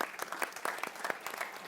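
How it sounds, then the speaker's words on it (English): Audience applause at a conference panel on emotional AI, a steady wash of dense clapping filling the whole moment at moderate level. "I'm going to give you another round of applause."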